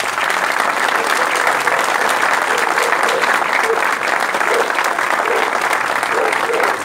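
Audience at the inauguration of a regional association's new house applauding, a dense, steady wash of clapping from a large crowd that carries on unbroken for several seconds.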